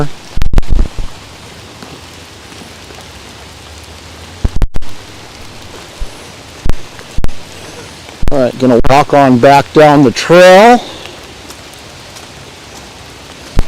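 Heavy rain pours steadily along a trail in Alaska, a dense hiss throughout, loud and close, with someone speaking briefly over it.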